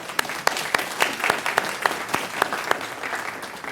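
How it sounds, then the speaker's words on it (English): Applause from a small audience at a city council meeting: scattered, uneven handclaps lasting a few seconds, moderately close, with no voices over them. "Let's give him a round of applause, please."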